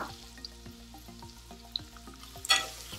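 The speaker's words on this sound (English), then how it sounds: "and I'm going to add chopped garlic. Going to add chopped ginger." Chopped garlic and ginger fry in a pan with a steady low sizzle, soft clicks and pops running throughout, and a brief louder burst of hissing near the end.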